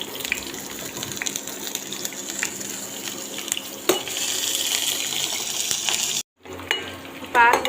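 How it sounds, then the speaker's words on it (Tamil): Onions and curry leaves frying in hot oil make a steady, close hiss and sizzle, with brief stirring clatter and a short pause near the end. "எண்ணெய் சூடாச்சு ஃப்ரெண்ட்ஸ். வெங்காயத்தை போடணும். வெங்காயம் ஆட் பண்ணிக்கலாம். கருவேப்பிலையும் ஆட் பண்ணிக்கலாம்."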